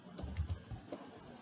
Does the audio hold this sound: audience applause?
no